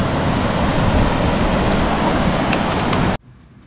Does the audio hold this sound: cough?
no